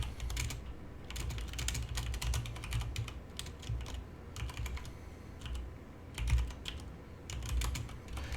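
Someone types steadily on a computer keyboard, with quick, irregular clusters of soft key clicks that are fairly quiet and close, with no talking.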